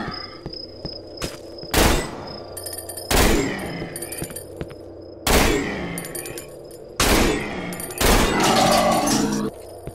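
Gunfire in the survival horror game Cry of Fear: several loud, sharp shots at roughly regular intervals, each with a ringing tail, over a low ambient hum with no talking.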